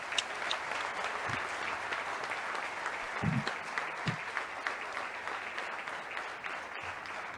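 Audience applause at a gala evening after a speech, a continuous even patter of many hands clapping at moderate level, steady throughout without voices.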